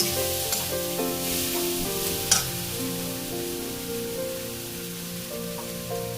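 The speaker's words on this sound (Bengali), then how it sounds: "নাড়তে থাকবো" Fish head curry masala for Bengali muri ghonto, made with katla fish, being stirred in a pan with a steady sizzle, a soft scraping of the spoon and one brief sharper clink.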